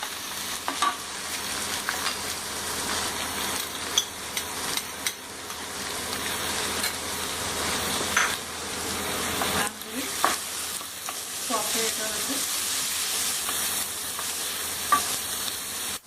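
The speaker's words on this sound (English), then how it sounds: "We have to slightly saute our onion for 2-3 minutes." Onions sauté in butter in a hot pan, giving a continuous close sizzle broken by repeated scraping and stirring strokes of a spatula over about sixteen seconds. No one speaks.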